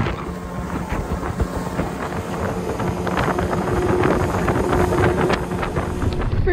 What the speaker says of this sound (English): Yeah, it's pretty freaking windy.